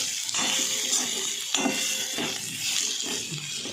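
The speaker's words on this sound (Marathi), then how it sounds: "पाणी घालून घ्यायचं थोडंसं घालायचं शिजण्यापुरतं" Water is poured into a cooking pan of sautéed spiced brinjal, a close, steady splashing and gurgling stream with small knocks along the way.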